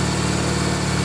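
A Triumph Bonneville motorcycle engine runs loud and close in a very brief burst, a dense, steady throb with a low, pulsing exhaust note.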